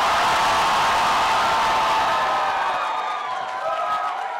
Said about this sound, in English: Why don't you roar louder than them?